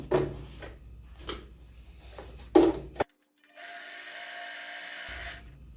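Fabric rustles and is handled, then after a brief silence a sewing machine runs a steady humming burst while stitching a finishing seam on a large insulated toiletry case.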